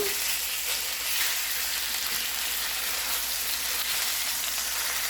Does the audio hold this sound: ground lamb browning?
yes